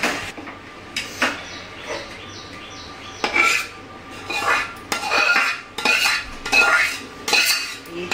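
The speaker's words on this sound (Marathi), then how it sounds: "आता आपण हे जो गूळ वितळलेला आहे तो आपण जे चुरून घेतलेला आहे त्याच्यामध्ये टाकून घेणार आहोत." Melted jaggery being mixed into crumbled wheat flour for churma ladoo, a spoon scraping and clinking against a metal pan in irregular bursts of stirring, close and fairly loud, with no talking.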